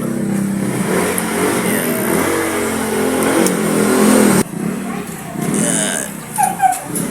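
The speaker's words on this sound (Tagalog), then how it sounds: "Kinonvert niya yung kanyang e-bike sa isang motor ng pambangka." A small 5.5 horsepower motor-star engine fitted with a Rusi Gala 125 carburetor, an e-bike motor converted into a boat engine, revving loudly and steadily, then cutting off abruptly as someone speaks and a few sharper sounds follow.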